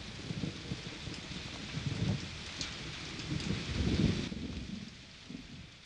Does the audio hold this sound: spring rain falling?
yes